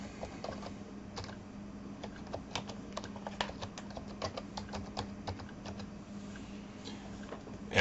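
Steady keystrokes on a computer keyboard as a folder name is typed, a quick irregular run of light clicks over a constant low electrical hum, ending with a sharper key press.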